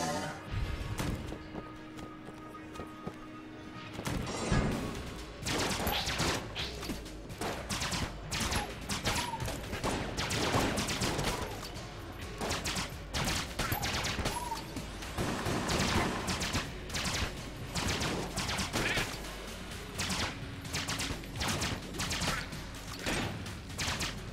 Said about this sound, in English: try not to walk into gunfire